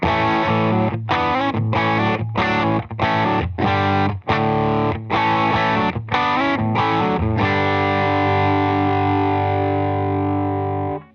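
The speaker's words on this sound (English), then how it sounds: "Let's go with some distortion." An electric guitar played through a Line 6 HX Stomp XL with overdrive distortion plays heavily distorted chords in a choppy rhythm, then lets the final chord ring out and fade, loud and saturated.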